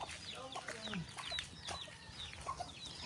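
Chickens clucking on a farm: several short clucks and squawks scattered close by over a steady outdoor background, fairly faint overall.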